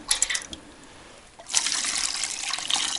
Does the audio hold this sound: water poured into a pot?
yes